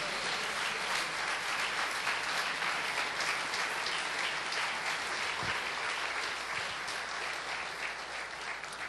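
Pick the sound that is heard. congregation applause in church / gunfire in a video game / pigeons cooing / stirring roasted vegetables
congregation applause in church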